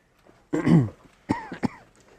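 A lone man's coughs and throat clears, one longer rough burst followed by two short sharp coughs, close and fairly loud in a quiet room.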